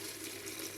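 Hot but not boiling water poured from a kettle, a brief, faint, steady liquid stream close by.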